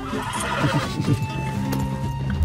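Horse in the video game Red Dead Redemption 2, a loud close whinny followed by a run of clip-clop hoofbeats, all within a couple of seconds with no talk over it.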